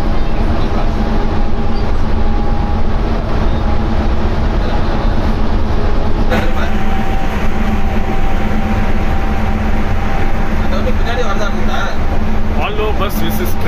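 A train rumbles past continuously with loud low clatter and a steady whine, persisting throughout as a constant roar.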